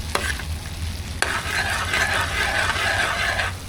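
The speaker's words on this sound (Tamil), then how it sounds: "எவ்வளோ நேரத்துக்கு இப்படி கிண்டிக்கிட்டே இருக்கிறது?" Dragon fruit halwa being stirred in a hot pan, a steady close scraping and bubbling sizzle that runs continuously with two sharp knocks of the spoon against the pan near the start.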